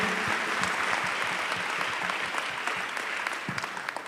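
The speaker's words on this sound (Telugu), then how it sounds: "గట్టిగా చప్పట్లు కొట్టి యేసుకి మహిమ చెల్లిద్దాం." A church congregation claps loudly, a dense sustained burst of many hands clapping together, heard fairly close, fading slightly toward the end.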